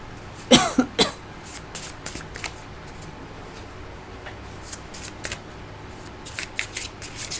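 Tarot cards being shuffled by hand at close range, with a few sharp rustling bursts near the start and softer intermittent card riffles and taps over a quiet room background.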